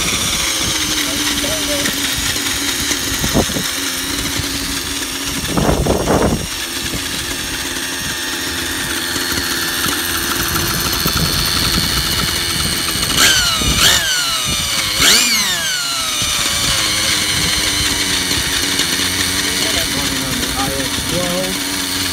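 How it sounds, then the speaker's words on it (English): Align Trex 600N nitro RC helicopter engine running on Cool Power 30% heli fuel, buzzing steadily at idle near at hand with a few sharp rising throttle blips, under occasional talk. "I ran a full tank through it, just letting it idle, quick throttle blips"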